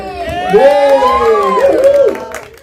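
At a film press conference, an audience lets out loud cheers and excited shouts, rising voices swelling briefly over a light patter of clapping before fading.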